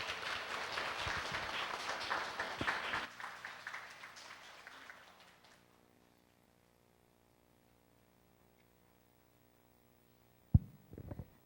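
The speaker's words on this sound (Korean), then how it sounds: "큰 박수로 모시겠습니다." Lecture audience applauding to welcome an obstetrician speaker, a dense burst of clapping that thins out and dies away over several seconds, followed by near silence and a couple of sharp knocks at the end.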